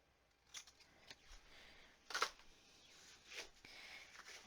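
Scissors snip paper alphabet letters in a quiet room, giving a few short, soft cuts close by with one sharper snip in the middle and no talking.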